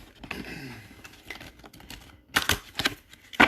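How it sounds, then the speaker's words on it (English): Vampire Tarot cards shuffled by hand, a run of soft papery riffles and flicks with louder sharp snaps near the end, close and alone. "I am shuffling the Vampire Tarot"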